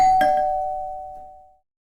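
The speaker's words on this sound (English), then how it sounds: "Dylan rings the doorbell." A single doorbell chime rings out clearly, a clean bell tone struck once that rings on and decays smoothly to silence within about a second and a half.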